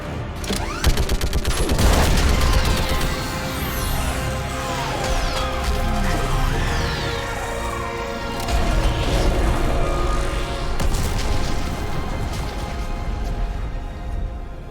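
Dense gunfire and heavy orbital strike explosions from the Mass Effect 3 video game, a continuous loud barrage of rapid shots with repeated booming blasts throughout.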